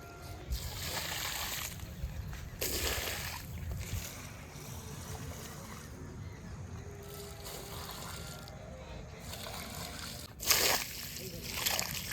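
Water is poured onto a small patch of vegetable plants, giving a run of sloshing splashes and trickles that rise and fall close by, with a louder splash near the end.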